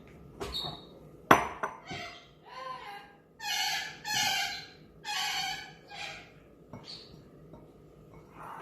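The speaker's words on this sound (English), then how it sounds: "I'm going to use this glass bowl." A glass bowl gives a sharp clink as it is handled in a kitchen, followed by softer knocks and other handling sounds.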